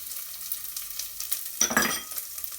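Onions and garlic drop into hot olive oil with a brief burst of sizzle and frying crackle, fairly faint and close, settling into a quieter hiss after about a second.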